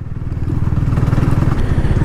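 A 2024 Bajaj Dominar 400 touring motorcycle rumbles loudly up close while riding over a pothole or speed breaker, its engine thumping rhythmically over the whole stretch.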